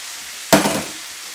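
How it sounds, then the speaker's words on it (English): A pan of sardine spaghetti bursts into a short, loud sizzle, a sharp hiss that rises suddenly and fades over under a second with no talking. "You can hear it sizzling."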